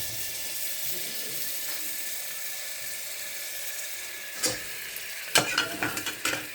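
Butter sizzling with whole cinnamon and cardamom in a pan, a steady soft crackle that gives way to a burst of sharp scraping stirs near the end, close up.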